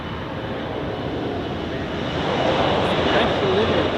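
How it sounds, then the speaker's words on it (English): An Air Nostrum airliner departing at Zurich Airport, a steady broad jet engine roar that grows louder toward the end, with talking over it. "now the Air Nostrum departs"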